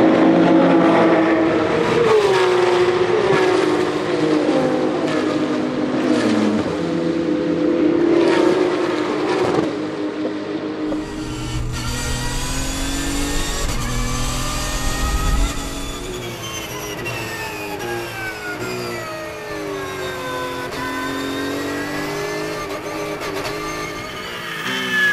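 Race cars at the Paul Ricard circuit in the opening minutes of a race, the pack running close together: loud, sustained engine roar with high-revving whines, then deeper rumbles and rising and falling pitches as cars pass nearby.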